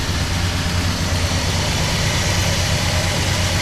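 A 1967 Plymouth Belvedere II engine idles at a high 1,000 RPM, a loud, steady, continuous rumble and hiss close by with no pauses or talk.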